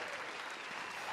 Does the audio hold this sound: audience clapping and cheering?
yes